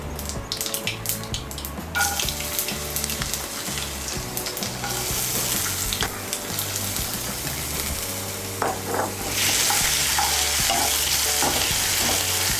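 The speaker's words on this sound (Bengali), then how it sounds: "এর মধ্যে আমি দিয়ে দেব 1 ছোট চামচ ছোলার ডাল আর 1 ছোট চামচ কলার ডাল" Chana dal and kalai dal sizzle and fry with mustard seeds in a pan while being stirred, a steady close crackle with repeated scraping strokes, the hiss brightening near the end, and no voices.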